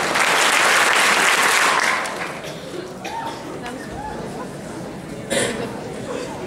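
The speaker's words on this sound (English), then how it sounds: "big claps." Loud audience clapping at a 2012 student speech event breaks off after about two seconds, leaving a room murmur of chatter and a few scattered laughs, with a brief burst of noise near the end.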